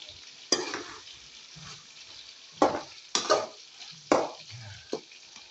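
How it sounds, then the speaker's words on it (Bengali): Hilsa fish frying in a pan, with a quiet sizzle broken by several sharp stirring and scraping bursts at irregular intervals, close by and with no voices. "ফ্রাই করতেছি।"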